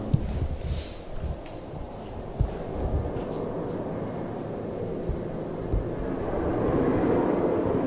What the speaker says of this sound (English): So if you hear a rumbling noise, it's airplanes going by.